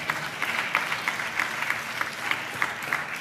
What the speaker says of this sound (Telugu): అందరం చప్పట్లు కొడితే యేసయ్యకి స్తోత్రాలు చెప్దాం.